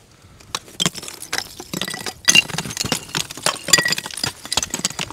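Glassy clinks and crunches of ice-coated branches in a frozen winter forest, a scattered run of sharp bright ticks and tinkles at close range, with no voices.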